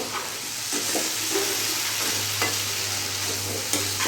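Elephant foot yam curry is stirred and fried in a pan on a gas flame, a steady sizzle with scraping spoon strokes recurring every second or so, close and alone.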